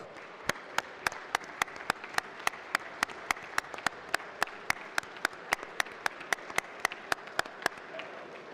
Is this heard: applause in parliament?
yes